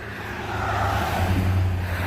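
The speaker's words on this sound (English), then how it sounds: "little bit of cars coming by." Road traffic passing beside a Ford Transit Connect parked roadside for a flat tire change, a continuous low rumble and tire whoosh of cars going by, swelling slightly and holding steady at moderate loudness.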